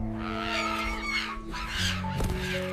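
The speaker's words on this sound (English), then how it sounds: "a flock of wild birds dive from the sky, attacking with flapping wings and shrieks." A flock of wild birds in a jungle shrieks and honks with harsh, overlapping calls, alongside flapping and a low background drone.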